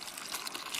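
Water poured into a planting hole for a leek in a garden plot, a short steady splashing pour at close range with no other sounds.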